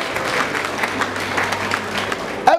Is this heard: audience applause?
yes